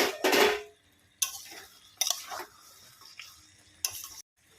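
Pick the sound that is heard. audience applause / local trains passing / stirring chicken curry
stirring chicken curry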